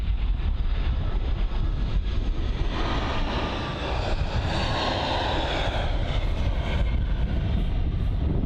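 A jet airliner arriving at Bristol Airport produces a loud, sustained engine roar with a rising and falling whine as it passes close by, filling the whole stretch.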